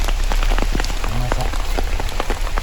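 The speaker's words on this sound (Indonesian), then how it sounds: "karena hujan kelap-kelap" Steady rain patters on a forest campsite under large trees: a dense, continuous hiss with scattered closer drops tapping, loud and close throughout.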